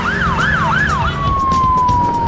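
An ambulance motorcycle runs on blue lights with its siren blaring loud and close, first a few fast rising-and-falling wails, then a long steady tone over road noise.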